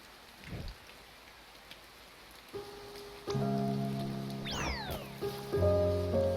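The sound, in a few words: rain pouring in the video game A Bird Story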